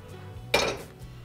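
A single clattering metal splash of a pot of boiled carrots and peas being tipped to drain, brief and close, in an otherwise quiet kitchen.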